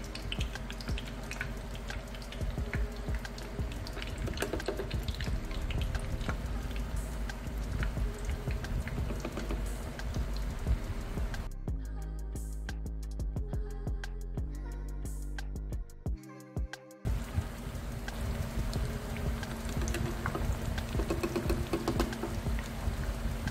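Corn flour and mozzarella tortillas frying one at a time in hot oil make a steady, dense crackling sizzle that continues throughout, with a short quieter gap near the middle.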